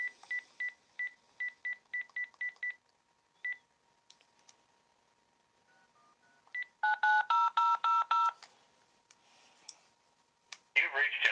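A phone dialing a home answering machine, with a quick series of touch-tone beeps, a pause, faint ringing tones, then denser tone bursts and a burst of noise as the line connects.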